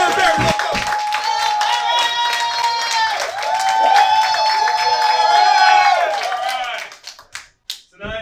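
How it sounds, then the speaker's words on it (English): Comedy club audience clapping in rhythm and cheering as a comedian is brought on stage, loud and continuous, with a tonal whistle-like line and an announcer's voice over it, fading out near the end. "Keep that clapping going."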